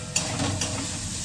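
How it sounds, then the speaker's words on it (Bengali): Onions fry in hot oil with a steady sizzle and a couple of quick stirring scrapes in the pan, close and fairly loud. "তো পেঁয়াজটা ভালো করে আমি ভেজে নিব"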